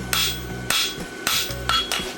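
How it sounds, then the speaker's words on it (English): A blacksmith's hammer strikes horseshoe stock on an anvil in half-face blows, four loud ringing clangs at a steady, unhurried pace, close by and with no talk. "Half face blow, meaning half the hammer is on the anvil, half of it's hanging off."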